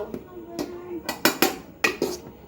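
Plates are set out for a family meal of rice, giving about half a dozen sharp, close clinks and clatters, a few of them in quick pairs, over a quiet background.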